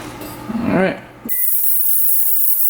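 Compressed air blasting through the jets of a cleaned carburetor from a three-wheeler, a sudden loud, close, steady hiss that starts after a short voiced moment.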